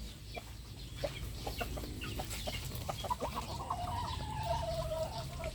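Backyard chickens raised as racing fowl cluck and murmur close by in a continuous, busy chatter, with faint background noise and no talk.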